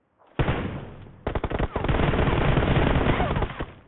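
Shooting video game firefight: sustained rapid automatic gunfire that starts abruptly, pauses briefly, then rattles on loudly and continuously, with faint talk in the background.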